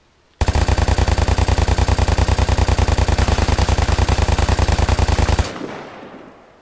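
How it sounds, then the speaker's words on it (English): An MG3 machine gun in the video game Vigor fires one loud, sustained burst of rapid, evenly spaced shots lasting about five seconds, then stops and leaves a short fading echo. "Okay, so the first gun on the list is the MG3."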